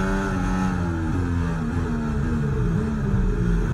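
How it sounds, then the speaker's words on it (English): A McLaren Formula 1 car engine in the F1 24 video game howls continuously at high revs into turn 1, the pitch rising and dipping as it shifts gears. "Let's have a quick listen for the engine into turn 1."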